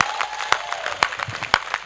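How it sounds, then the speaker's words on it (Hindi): Brief, scattered clapping from an audience at a Hindi comic poetry performance, a few sharp loose claps rather than a full ovation, close and uneven over a short span. "तो एक बार दोनों हाथ खड़े करके तालियां बजाइए।"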